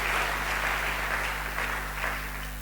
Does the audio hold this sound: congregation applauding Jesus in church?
yes